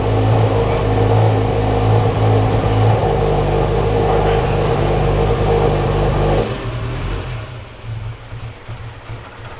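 A Subaru BRZ / Scion FR-S / Toyota 86 engine with a freshly installed Greddy 518Z turbo kit runs loud and a little rough, with a steady close drone that drops to a quieter, unsteady idle for the last few seconds.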